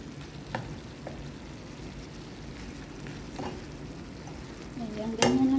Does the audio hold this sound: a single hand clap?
no